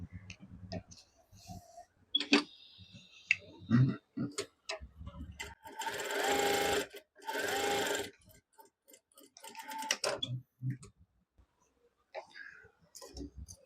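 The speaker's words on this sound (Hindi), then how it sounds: "तो यहाँ से हम इसमें सिलाई लगाएंगे।" Sewing machine stitching a pocket onto an Afghani trouser, two short whirring runs between sparse clicks and handling sounds, with quiet talk at moments.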